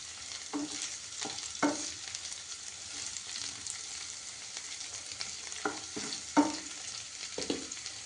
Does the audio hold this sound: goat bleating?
no